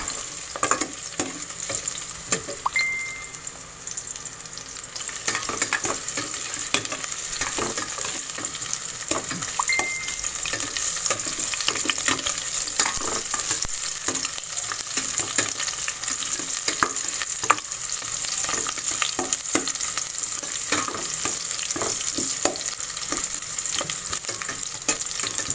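Steady crackling sizzle of onions sautéing in a saucepan, with occasional scraping stirs, continuous and close, no voices.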